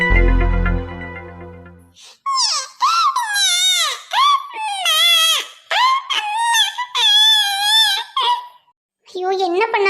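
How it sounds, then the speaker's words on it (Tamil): A baby wails in loud, high, strained bursts, crying nearly without pause after a brief low tone at the start, close and unbroken except for short gasps. "என்ன பண்ணாலும் குழந்தை அழுகே நிறுத்தாம அழுதுகிட்டே இருக்காளே"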